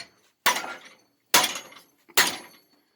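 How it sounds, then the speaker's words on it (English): A Chevy Colorado rear axle hammered into a vise: three loud, sharp metallic blows spaced about a second apart, each ringing briefly before fading into silence. "So you smash this bastard into the vise."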